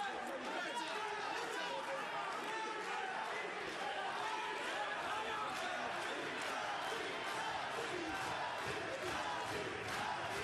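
A boxing crowd at a European featherweight title fight chants for the home fighter, a steady dense roar of many voices that fills the hall throughout.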